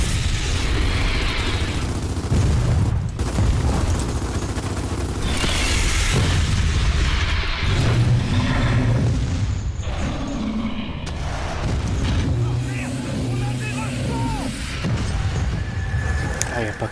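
Gunfire and explosions from Gears of War 4 as players shoot at a blister creature, with loud continuous booms, bursts and rumbling mechanisms across the whole stretch, layered with in-game voices and talk.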